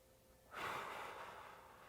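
A single soft, airy breath drawn in through the nose during a lower-back stretching exercise, rising suddenly and continuing as a steady close hiss before easing slightly, with no talking.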